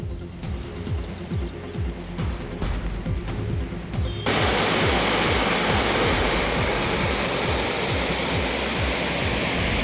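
Rain-swollen streams and ditches overflow after heavy rain in Karnataka, a loud, dense, unbroken rush of flowing water that swells further partway through.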